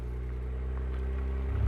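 A 2017 Acura NSX sports car drives along with a steady, loud low engine rumble and a slight rise toward the end; no one speaks.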